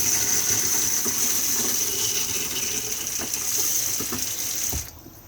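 Tap on a motorhome basin (Benimar Mileo 286) running steadily, a close continuous gushing hiss with a faint pump hum beneath, cut off abruptly at the end, with no talk.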